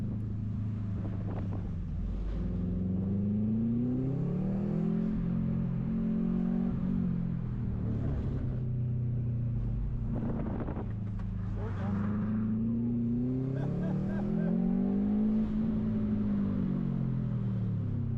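A 2006 Subaru STi on a winter autocross course climbs and falls through the revs in repeated surges. The engine is heard at a moderate distance under steady wind noise, with faint voices.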